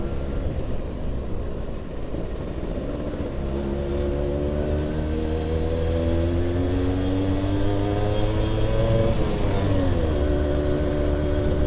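A two-stroke Suzuki Tornado GX100 motorcycle engine revs continuously, its pitch climbing steadily over several seconds, dipping briefly, then rising again, loud and close with a buzzy, whining tone.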